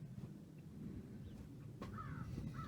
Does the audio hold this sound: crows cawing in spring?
yes